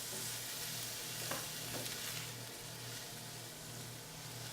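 Ingredients fry in a hot skillet with olive oil, a steady close sizzle and crackle with a low hum and a couple of faint stirring scrapes, no talk.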